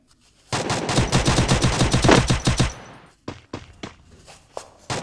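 Gunfire in the Free Fire mobile game: a loud, rapid automatic burst of about two seconds, then a short pause and several separate shots at an uneven pace, with no talking.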